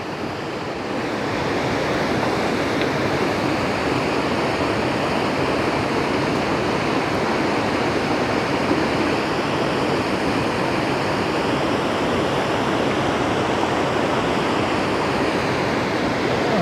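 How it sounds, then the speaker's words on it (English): Steady, broadband rush of falling water, continuous and fairly loud, like a small waterfall at Shell Falls, Bighorn National Forest, Wyoming, heard from nearby with no voices. "I think that is a little waterfall too"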